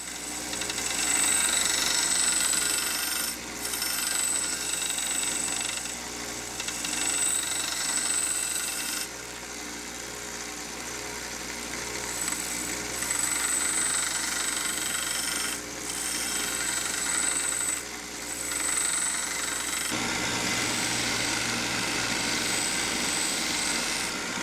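A hand forged knife gets its edge on a belt grinder, a loud, sustained motor whine with a gritty abrasive hiss as the blade is pressed to the belt in several long passes, briefly easing between passes.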